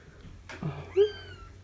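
A newborn kitten from a feral cat's litter lets out a short, high-pitched mew at close range, against a quiet room.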